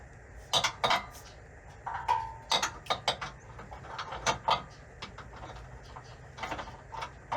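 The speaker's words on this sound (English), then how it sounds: "So we got those 4 bolts right there to torque out." Sharp metallic clicks and clanks from a torque wrench tightening the four bolts of a MetalCloak DEF skid plate on a diesel Jeep JL, in irregular bursts with short pauses between them and no talking.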